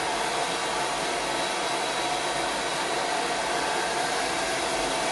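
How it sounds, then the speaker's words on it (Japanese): Hair dryer blowing steadily on hair from the parting outward while styling a center part, a loud, continuous airy roar that holds at a constant level throughout. "分け目から乾かしていこう。"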